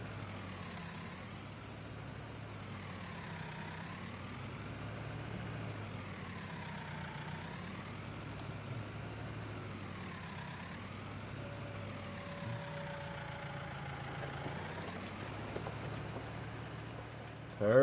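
A tractor engine in Farming Simulator 19 drones steadily at a low idle-like hum, its pitch rising and falling in slow, regular waves, with a faint background wash.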